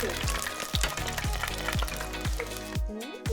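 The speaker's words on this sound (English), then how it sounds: "we have our oil at 350 degrees and we're gonna fry them" Frozen homemade sauce packets deep-fry in oil at 350 degrees, giving a loud continuous bubbling sizzle with repeated sharp gurgling pops, close up and without talking.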